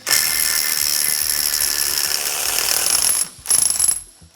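A ratchet fitted with a 29 mm deep socket spins out a head stud on a Porsche 3.2 engine, giving a loud, fast, continuous buzzing ratchet that breaks off briefly, then resumes in a short burst.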